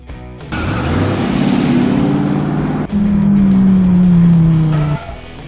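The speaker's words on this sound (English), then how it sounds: "Tow truck." A tow truck engine roars steadily at close range, its low drone shifting in pitch across two sustained passes with no one talking.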